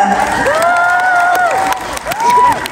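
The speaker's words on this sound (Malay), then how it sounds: "Kepada tim produksi ABP, tepukan untuk mereka." Cheering at the 37th Anugerah Bintang Popular awards ceremony at Premiera Hotel, Kuala Lumpur: a loud crowd roar with rising and falling whoops and shouts, briefly dipping before surging again.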